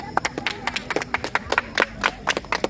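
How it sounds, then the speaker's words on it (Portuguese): A few people clap hands at a São João festival gathering, sparse uneven claps close by with faint background sounds. "Dá pra dar uma salva de palmas, não dá?"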